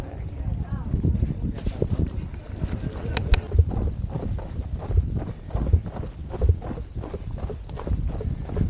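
Irregular hoof clops from a pack horse walking on a hard volcano trail on Acatenango, Guatemala, steady and close, with wind noise and occasional voices in the background.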